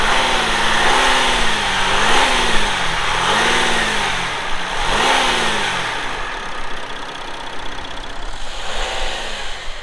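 An Audi Q5 diesel V6 engine revs several times in quick swells, pitch climbing and falling, then drops back to a steady idle nearby.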